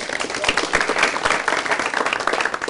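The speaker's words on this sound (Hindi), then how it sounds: "तालियां, पहले तालियां" A studio audience at a talk show on life-partner choices breaks into steady, dense clapping that stays loud and even throughout, with no voices over it.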